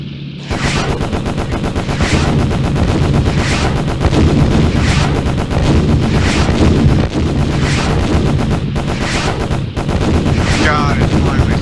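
Loud, rhythmic cannon and machine-gun fire in the Beyond Pearl Harbor naval combat game, with repeated heavy shots about every second over a constant mechanical roar.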